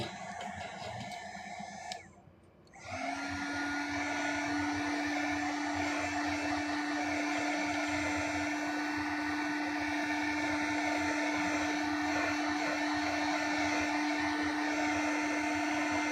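A heat gun blows over a watercolor painting's background to dry it, a steady close whirring hum that briefly dips and then runs unbroken at an even, fairly loud level.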